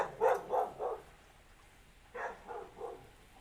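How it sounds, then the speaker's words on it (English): Neighbor's dogs bark in the distance, faint, in two short bursts of three or four barks each separated by a brief pause, with no talk over them. "Don't you love it when the neighbor's dogs are just raising sand?"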